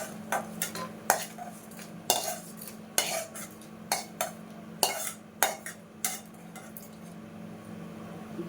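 A spoon scraping and tapping in a pan holding roasted red chilies, fenugreek seeds and cumin, a string of sharp metallic scrapes and clinks in an uneven rhythm, close and clear with a low hum behind.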